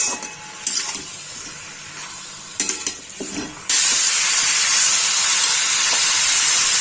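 Chicken browns with spices and tomato for a Bengali winter chicken curry. Soft intermittent sizzling and a few stirring knocks give way to a sudden loud, steady, broadband hiss of frying.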